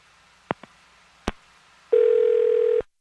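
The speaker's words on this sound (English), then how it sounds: "I'm going to dial her phone number right now." On a call placed for a radio show, a telephone line gives a few sharp clicks, then a loud steady tone that holds for almost a second before cutting off.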